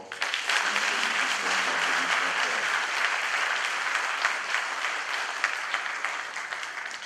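A party pre-congress audience applauds strongly, producing a thick, sustained clatter of many hands at moderate distance, with faint voices murmuring underneath.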